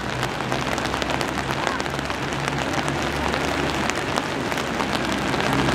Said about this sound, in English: Well, the rain's still coming down.